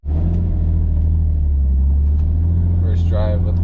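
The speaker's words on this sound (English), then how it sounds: "First drive with the new diff" A Lexus SC300 drift car with a newly fitted differential, geared from 4.24 to 3.9, drives along with a loud, steady low engine and road rumble from inside the cabin, while a voice speaks briefly near the end.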